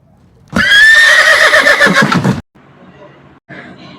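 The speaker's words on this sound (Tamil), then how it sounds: "சரியாக கண்டுபிடிச்சிட்டிங்க இது குதிரை" A horse neighs loudly and close by in one long, quavering whinny of about two seconds, followed by quieter muffled sounds.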